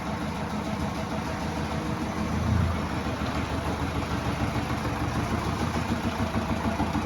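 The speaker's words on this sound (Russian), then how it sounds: "Вот так работает мотор." Subaru Outback 2.0 engine idling after a repair for knocking and a gasket replacement, a steady low mechanical hum with a faint high whine and one small rise in the rumble, heard from nearby in a garage.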